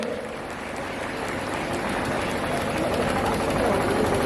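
An audience at a Hindi poetry gathering for disabled poets in Lucknow claps loudly for the poet Swadeshi ji, a broad continuous wash of applause that swells slightly toward the end.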